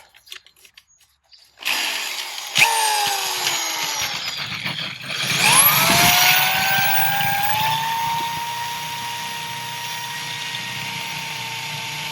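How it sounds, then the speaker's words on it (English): After a short quiet start, a power drill whirs up loudly and keeps running steadily during a pool heater installation, its motor pitch shifting as it bites in, close and continuous. "let's get to drilling"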